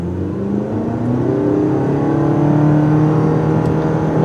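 A 2016 Mitsubishi Outlander Sport GT engine with a CVT automatic drones loudly under acceleration, its pitch rising slowly and steadily as the SUV gains speed, heard from inside the cabin without voices.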